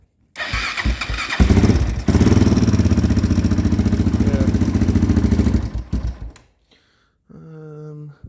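A Honda 400ex ATV engine with a suspected failure is revved hard on the throttle, a loud, steady, close roar that runs for several seconds before cutting out, then sputters back to a rougher idle.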